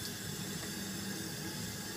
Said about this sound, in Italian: L'acqua scorre